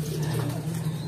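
Young racing pigeons in a loft murmur with a steady, low, overlapping coo, heard close and continuous.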